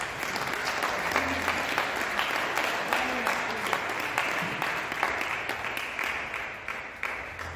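A church congregation claps together in a steady, rapid rhythm, a dense crowd applause that runs continuously and loudly throughout, with voices faintly underneath.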